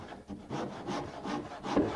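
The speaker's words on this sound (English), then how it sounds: "I'm going to use a guide block and a simple handsaw to make that initial cut." Ordinary back saw drawn through wood with a clamped guide block over the cut line, giving close, rhythmic rasping strokes, about four even pushes over two seconds with no talking.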